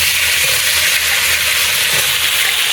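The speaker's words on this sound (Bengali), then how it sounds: "সজনে ডাটাটা হালকা ভেজে তুলে নিলাম" Pieces of drumstick (sojne data) frying lightly in oil, a dense, even hiss-like sizzle held at a steady loud level throughout, no voices.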